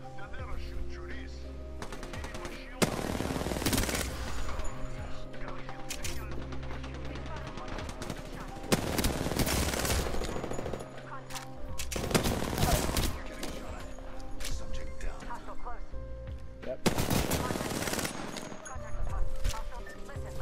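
Repeated bursts of automatic gunfire in the video game Apex Legends, loud close volleys coming in several waves over a steady battle din, with game voice lines and player chatter mixed in.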